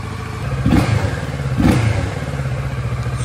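A motorcycle engine runs after an oil, air filter and oil filter change, with two brief revs rising over a steady mid-pitched idle, close and moderately loud.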